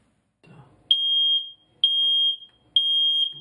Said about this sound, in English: hears the smoke detector going off in the other room or above the bed